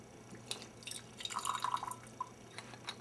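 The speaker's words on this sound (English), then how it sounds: "So you like to rinse it off with hot water." Hot water is poured quietly over tea herbs and teaware, heard as scattered drips and trickles with a brief glassy splash near the middle, all fairly faint.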